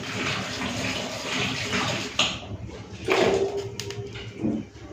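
Taro stolons (kochu loti) are washed in water, splashing and rinsing close by in a continuous wet rush with a few clinks of a vessel toward the end.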